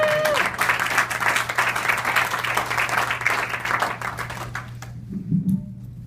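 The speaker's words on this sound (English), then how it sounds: "Your next comic coming to the stage, make some noise for Dustin Neal." Dense audience applause fills a comedy club as a comic takes the stage, steady and loud, with a few shouts, then fades to near quiet with faint murmuring near the end.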